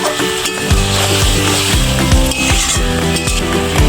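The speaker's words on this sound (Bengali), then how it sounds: "মাংস কষানো হয়ে গেছে, মশলার সাথে ভালোভাবে কষিয়ে নিয়েছি" Chicken sautéing with spices in a pan, a loud steady sizzle and fry with repeated scraping, stirring strokes of a spatula against the pan at a brisk rhythm.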